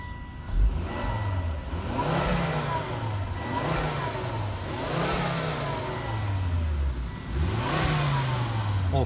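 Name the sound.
Volvo XC90 2.5T five-cylinder turbo engine running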